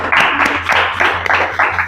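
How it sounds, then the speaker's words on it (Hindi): Audience applause at a school board-exam results celebration in Bilhaur, loud rhythmic group clapping arriving in regular pulses, close and sustained. "इनके लिए जोरदार तालियां"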